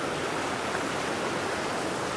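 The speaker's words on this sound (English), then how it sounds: "And the sound of that water." Mountain stream in the Parvati Valley near Kasol rushing steadily over rocks, a close, dense wash of water noise with no voices.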